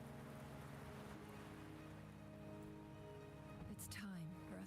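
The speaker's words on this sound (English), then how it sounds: "The rain is subsiding, and the sky will soon clear." Rain falls in the video game Wuthering Waves, a steady hiss of rainfall that carries on under in-game sounds, with a brief voice near the end.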